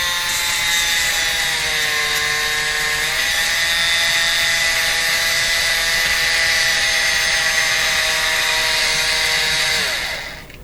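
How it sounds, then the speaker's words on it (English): A troublesome one-year-old Black and Decker power drill spinning sandpaper whirs steadily at high speed with an abrasive, rasping sanding tone, running loud and constant before winding down near the end. "Yeah, I'm having trouble with this drill."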